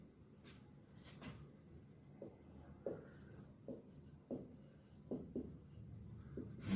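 Pen strokes on paper during a lesson, coming as short scratchy bursts with brief pauses, faint and close, with no talk.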